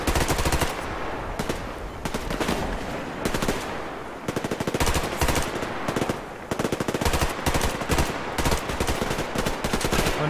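Rapid automatic gunfire from a gun in the video game Survarium, loud close bursts of shots in quick repeated strings with brief pauses between volleys, no talking.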